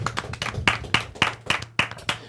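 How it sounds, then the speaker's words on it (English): Rhythmic, evenly spaced hand claps from a small group in a radio studio, welcoming the 2018 Gator Nationals Superstock Division II champion, close and crisp over a faint low hum. "Y'all put up a big round of applause"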